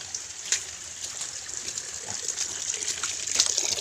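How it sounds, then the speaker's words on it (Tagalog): Rain-swollen water overflowing and gushing on a rural farm during a typhoon, a steady broadband rush that builds slightly toward the end, with no talk over it. "Puno na yung tubig. Umaapaw,"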